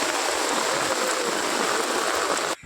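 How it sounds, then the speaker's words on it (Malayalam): Heavy rain pours down steadily in a low-lying area of Puthuppally, Kerala, a dense, loud and continuous hiss of falling water that fills the whole stretch before cutting off abruptly near the end. "പെട്ടെന്ന് അന്തരീക്ഷം അങ്ങ് മാറി, മഴ ചാറാൻ തുടങ്ങി"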